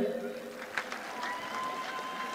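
A crowd applauds steadily as bishops are introduced one by one at a bishop's ordination ceremony, the clapping filling the hall with a voice heard over it.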